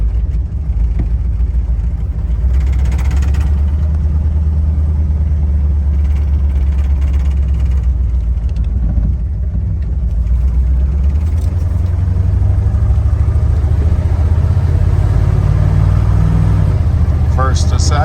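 A 1978 Ford Bronco engine runs loud and steady from inside the cab, its low drone rising as it accelerates, with pitch steps marking shifts from first to second and second to third.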